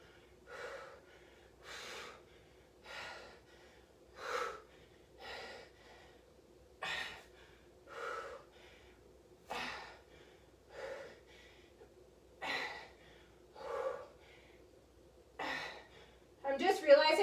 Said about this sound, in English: Lots of breathing here.